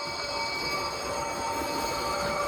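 Steady rolling rumble of a Hornby FLIRT model train running over unfrogged points, with a faint high squeal from the wheels, continuous and fairly close.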